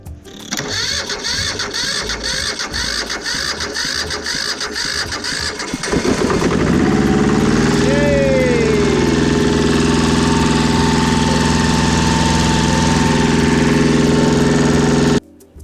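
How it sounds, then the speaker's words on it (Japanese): An excavator's diesel engine cranks in rapid rhythmic pulses, then catches and settles into a steady, loud idle after a fuel pump replacement, running close and continuous until it cuts off at the end. "はい、じゃあエンジンかけますよ。"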